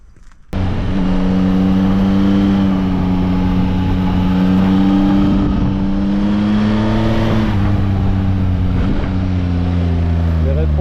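Yamaha Tracer 9 GT+ motorcycle engine on a mountain road toward Mont Ventoux, pulling hard under acceleration with a few quick downshifts, loud sustained engine drone heard from the rider's position with wind noise.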